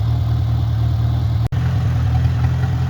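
A freshly restored Farmall Cub tractor engine idles steadily with a low, even chug, close by, with a brief dropout in the middle.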